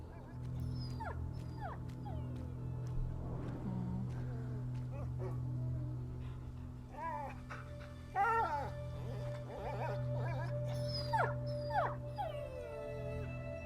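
In the video game A Plague Tale: Innocence, a wounded dog whimpers and yelps in high, wavering cries that come in several bursts over a constant low drone, with a voice speaking briefly between the cries.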